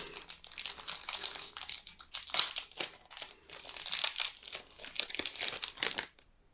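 Plastic wrapper of a 2Keep Fit cookie crème protein bar being torn and opened, a close, busy run of crinkling and crackling that keeps going for several seconds with short pauses.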